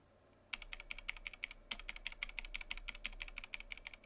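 Rapid, steady typing on the regular keys of a Jupiter 75 Bluetooth USB-C mechanical keyboard, crisp close clicks in a dense run after a brief quiet start, with no talking.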